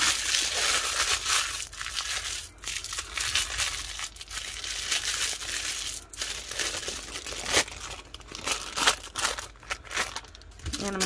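Iridescent cellophane crinkled by hand while wrapping a tumbler: close, continuous crackling and crumpling with sharper snaps scattered throughout, loud and irregular.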